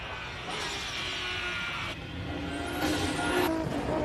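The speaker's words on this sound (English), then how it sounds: "One of my personal favorites up the hill, the R32. Makes a wonderful noise." A Nissan R32 race car climbs a hill at a hillclimb event, its engine a steady sustained roar heard from a distance, rising slightly in pitch and loudness toward the end.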